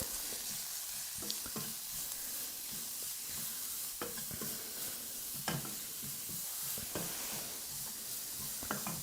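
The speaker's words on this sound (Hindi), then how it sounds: "और अब हम सारी चीज़ों को अच्छे से भूनेंगे।" Finely grated cauliflower and peas sauté in a pan over low heat, giving a steady, soft sizzle with occasional sharp ticks and scrapes from stirring.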